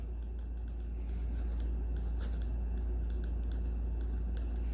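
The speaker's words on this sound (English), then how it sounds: "let's draw a bunny" A pen sketches a bunny on a writing surface, giving close, light scratchy strokes in short irregular bursts over a low steady hum.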